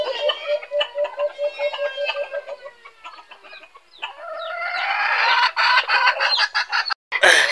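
Free-range chickens similar to wild junglefowl, clucking steadily up close. A rooster then breaks into a long, loud crow that rises over the clucking.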